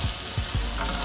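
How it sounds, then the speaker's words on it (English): Burgers sizzle in a pan slicked with olive oil, a steady close crackling hiss broken by a few brief low thumps from turning or stirring, with no one talking. "You got a nice sizzle in the pan."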